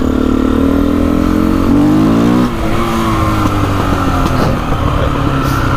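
A Husqvarna 510 SMR supermoto engine revs hard and loud, rising in pitch then dropping off, with crackling backfire pops trailing after the rev.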